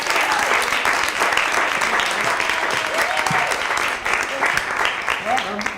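An audience at a live script reading in Los Angeles claps loudly and continuously, a thick sustained roar of hands with faint voices and a few whoops mixed underneath.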